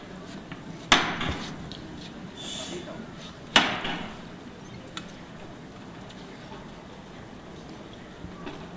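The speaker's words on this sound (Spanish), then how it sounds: "A golpe de martillos, lo han escuchado ustedes perfectamente" Two loud wooden hammer knocks a few seconds apart, sounding the start of a Holy Week procession float in Spain, ringing out over a steady murmur of crowd ambience.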